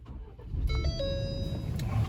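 A 2019 Ford Ranger pickup starts up close by: a steady engine rumble rises and holds, with thin chime-like tones ringing over it.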